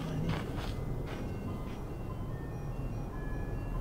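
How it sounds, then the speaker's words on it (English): Faint ice cream truck music carries from a distance through a forest, a thin tinkling melody over steady outdoor hiss and low rumble, with a few soft footstep-like thuds early on. "That's ice cream truck music"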